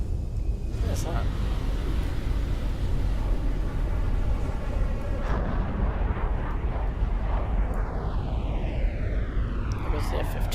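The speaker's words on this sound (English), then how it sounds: "And there goes the Antonov." An Antonov aircraft flies past with a broad, rumbling roar, then a whine drops in pitch as it passes and recedes. Voices chatter over it.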